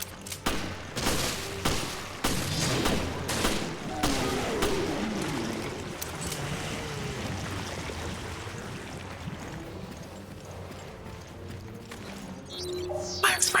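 Gunfire from a Resident Evil Revelations game session: a cluster of sharp shots in the first five seconds, then a quieter rumbling stretch with a few later bursts, all under excited voices.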